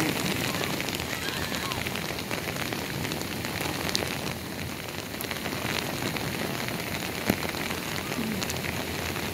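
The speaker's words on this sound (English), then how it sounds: "Now it's raining on him." Steady rain patters on a beach towel held over a crying child after a man-of-war jellyfish sting, a dense continuous hiss with small drop ticks, fairly loud and close throughout.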